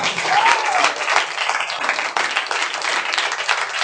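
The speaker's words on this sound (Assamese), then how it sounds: "তাৰ কাৰণে এটা ডাঙৰ জোৰদাৰ তালিয়া।" A school audience claps together in a warm, sustained round of applause for a class, dense and steady for several seconds.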